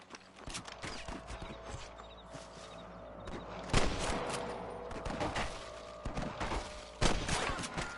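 Scattered gunfire in the Western video game Red Dead Redemption, several sharp cracks spread across the stretch, mixed with horse hooves and game ambience at moderate loudness.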